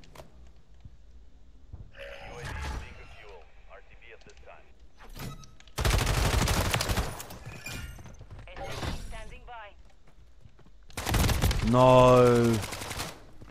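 Gunfire in a video game shooting challenge, two loud sustained bursts of rapid shots separated by quieter stretches, with people talking between them.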